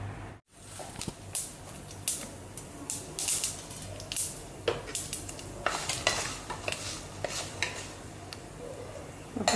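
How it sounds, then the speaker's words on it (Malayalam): Mustard seeds and dried red chillies crackling in hot oil while a lemon pickle is cooked, with steady sizzling and sharp irregular pops, plus occasional stirring and pan clatter close by. "അപ്പോൾ കടുക് പൊട്ടിയിട്ടുണ്ട്."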